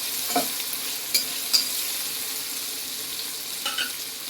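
Tomatoes sautéing in a pan for a khichdi, with a soft steady sizzle and a few sharp clinks and scrapes of a spoon stirring.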